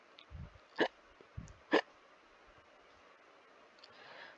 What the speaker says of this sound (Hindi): पर हिचकी नहीं रुकी